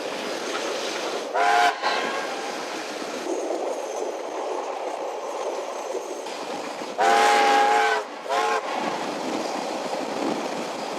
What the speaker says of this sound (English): the locos starts attacking the grade up to the Frankton saddle